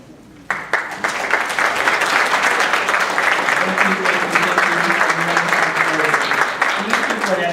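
Sustained applause for scholarship donors standing at an awards program, a dense crowd clapping steadily after a brief quieter moment, filling the room at full volume throughout.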